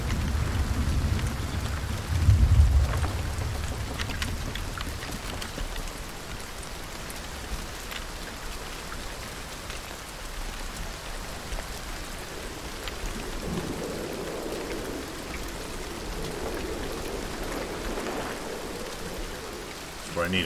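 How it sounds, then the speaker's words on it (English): Steady heavy rain in the video game Hunt: Showdown hisses throughout, with a brief low rumble near the start and faint, distant background noise later. "is it really starting to heavy rain now?"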